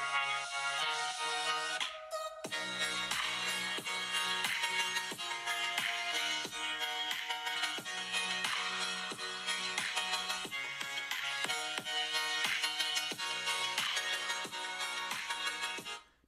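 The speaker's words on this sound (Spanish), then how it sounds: "hablamos ahora del altavoz y os pongo brevemente una canción con bajo" A bass-heavy song plays through the speaker of a Xiaomi 13 Pro phone, starting after a brief gap and then continuing loud and steady, with a thumping beat and a bright, slightly thin tone throughout.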